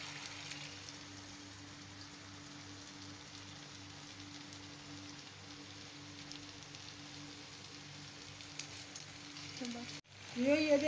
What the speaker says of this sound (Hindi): ये देखिए हमारे ज़बरदस्त पिनवील तैयार हो रहे हैं, फ्राई हो रहे हैं।